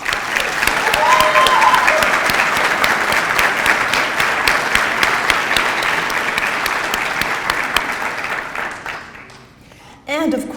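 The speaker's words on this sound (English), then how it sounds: "Let's give Stacy, Edward, Josh, David, Alex, Trenton, Alana, and Matthew a round of applause." A banquet audience applauds Teacher of the Year honorees, loud sustained clapping from many hands that slowly thins and fades, then a voice speaks briefly at the end.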